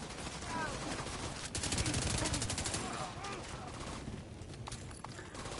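Hip-fire gunshots from a weapon in The Division, a rapid burst of automatic shots mid-clip amid game ambience and background noise, with a quieter stretch afterward.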